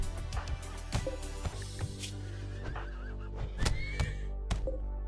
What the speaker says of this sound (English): You're punching a horse that I haven't even tamed.